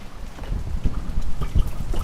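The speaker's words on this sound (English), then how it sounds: "Oh, man, it is getting windy out." Outdoor wind blowing in steady rough gusts and buffeting the microphone, a continuous low rumble with no speech.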